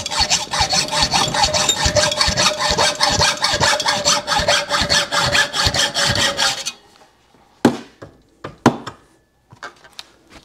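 Hand-sawing through a piece of a Yamaha 250MX motorcycle frame: fast, steady back-and-forth strokes for several seconds, then the cutting stops and a few sharp knocks and taps follow.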